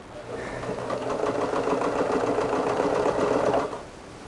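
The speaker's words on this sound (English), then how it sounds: "I'm just going to sew along from those guidelines we made earlier" Sewing machine stitching quilt fabric in one steady, fast run of close mechanical chatter lasting a few seconds, moderately loud and alone before it stops.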